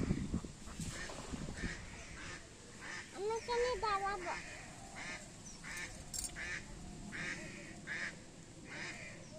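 Ducks at a village pond quack intermittently against a noisy outdoor background, with people talking nearby and a short burst of rapid quacks in the middle.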